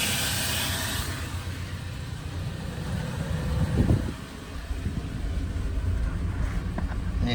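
A pickup truck, getting its idle air control valve replaced, idles roughly and shakes. It gives a steady, continuous engine rumble with broadband hiss and a brief louder surge midway, with no talk.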